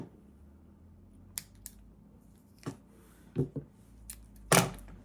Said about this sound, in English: Now take off a decent bit of tape. We'll snip it.